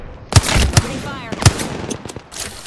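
Machine gun fire in a video game, a few sharp loud bursts close together, with a voice speaking between the shots.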